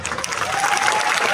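Steady applause from an audience at an award ceremony, a dense, even patter of many hands clapping throughout the brief moment.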